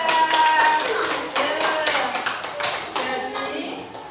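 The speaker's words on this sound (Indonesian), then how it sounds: "tepuk tangan untuk nomor 2" A classroom applauds a presenter, with a burst of hand clapping that starts loud, dips briefly, then carries on unevenly to the end. A few voices murmur underneath.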